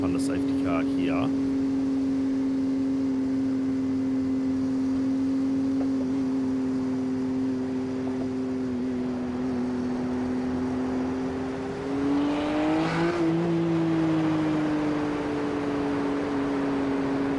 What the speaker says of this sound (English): I say the Beamer sounds really bloody nice.